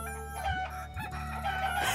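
Rooster crow sound effect from a farming RPG video game, a short synthesized cock-a-doodle-doo over steady game music, fairly loud and close.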